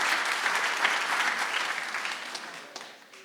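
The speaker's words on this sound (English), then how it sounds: "You guys can clap for that if you want to." An audience applauds, a dense wash of many hands clapping at once, steady and moderately loud, gradually fading toward the end with no voices over it.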